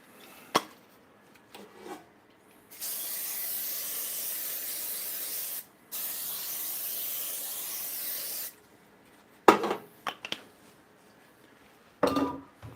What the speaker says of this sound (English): Spraying with baking spray.